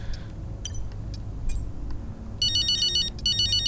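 A phone ringtone trills in the racing game F1 Braking Point 2, sounding as repeated bright electronic bursts over a steady low game background hum, fairly loud and clear with no talking.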